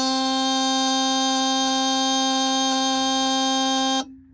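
A mechanical fire alarm horn blares during a fire alarm system test, holding one continuous buzzing tone for about four seconds before it stops abruptly and leaves near silence.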